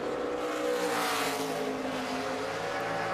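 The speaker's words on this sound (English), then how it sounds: "NASCAR Sprint Cup Series qualifying at Richmond" A NASCAR Sprint Cup race car laps Richmond during qualifying, its engine a loud, sustained high-pitched drone that holds steady and rises slightly in pitch.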